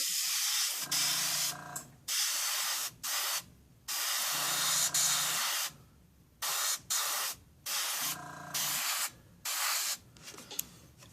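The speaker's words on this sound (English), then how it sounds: "Keeping my stream, just let the overspray go down on it." An airbrush sprays paint graphics onto a model car part in a series of close, fairly loud hissing bursts of varying length, separated by short silent pauses, with no talking.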